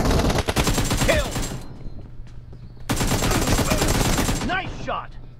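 Automatic gunfire in the PUBG video game comes in two loud, dense bursts of rapid shots, broken by a short lull, with faint voice-like sounds mixed in.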